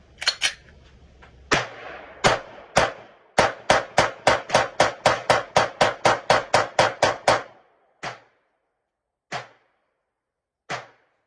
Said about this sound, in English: Glock 19X. 30-round stick mag. Let's get it popping.